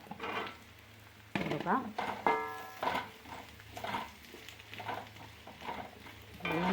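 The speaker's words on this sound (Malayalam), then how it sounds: "ഉള്ളി ഒന്ന് ചുമന്ന് വന്നിട്ടുണ്ട്. അപ്പോൾ നമുക്ക് കുറച്ച് കറിവേപ്പില ഇട്ട് കൊടുക്കാം. അതിൻ്റെ കൂട്ടത്തിൽ തന്നെ നമുക്ക് കുറച്ച് ഉരുളൻകിഴങ്ങ്" Potatoes fry in oil with reddened onion and curry leaves, a faint sizzle and occasional stirring clatter running underneath a person talking for most of the stretch.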